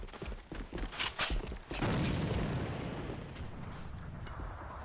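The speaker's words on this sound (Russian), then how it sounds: "Бросаю гранату!" A grenade explodes in a video game match on an airplane map. A few sharp shots come first, then a heavy boom that rumbles and slowly decays.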